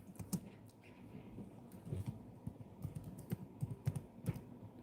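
Someone types on a computer keyboard, a close but quiet patter of irregular key clicks in small bursts, with no talking.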